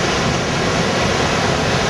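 Niagara Falls roaring at close range, a loud, dense, unbroken wash of falling water with no gaps or talk.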